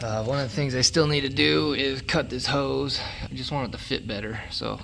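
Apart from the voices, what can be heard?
No everyday noise stands out behind the speech.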